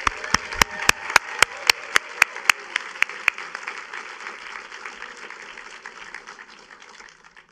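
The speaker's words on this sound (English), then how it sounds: "A big round of applause for all the films and the filmmakers in this year's festival." Audience applause at a film festival screening: a run of loud, evenly spaced claps up front gives way to lighter scattered clapping that gradually fades.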